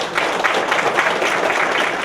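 An audience at a community business gathering gives a steady round of applause, dense continuous clapping filling the room at moderate loudness for the whole stretch.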